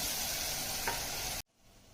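Steady sizzling of onions and tomatoes frying in hot oil, with a brief stirring scrape midway, cutting off abruptly near the end.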